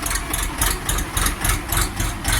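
An Orion RD 244 tractor on wide tyres idles nearby, its engine giving a loud, steady low chugging pulse that repeats about twice a second, with no voices.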